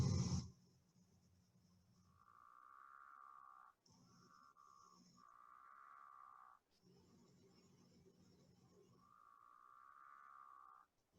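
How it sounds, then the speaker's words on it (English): A pickerel frog gives a snore-like call in a wetland, several low, rasping drawn-out croaks, fairly faint with gaps between them. "Here's the pickerel frog."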